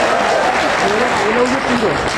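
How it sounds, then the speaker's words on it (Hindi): Audience clapping at a Hindi humorous poetry recital, a dense steady patter filling the short stretch with a voice rising over it throughout. "ताली बजाइए, एनर्जी मिलती है।"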